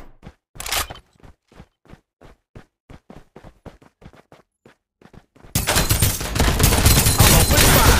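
Gunfire in the video game Farlight 84: a dozen sharp single shots at an even pace, then a loud, dense stretch of sustained automatic fire with heavy blasts near the end.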